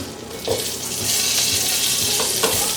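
Brussels sprouts hit a hot cast iron pan with a continuous loud hiss and sizzle, with a few soft clunks as they drop in.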